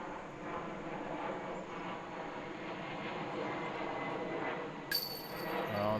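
A Boeing 747 jet passes overhead during a disc golf tournament round, a steady broad roar filling the whole stretch at moderate level, with a brief sharp click near the end.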